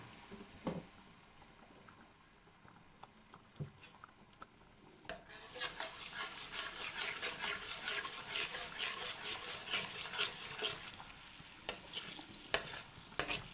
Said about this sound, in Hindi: आधा कप ऑयल को हमने चूल्हे के ऊपर पकने रख दिया और उसमें हम लहसुन अदरक का पेस्ट